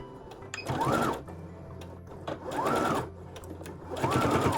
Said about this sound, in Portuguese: Eu vou levar para a máquina e vou fazer uma costura reta aqui, com um pezinho de máquina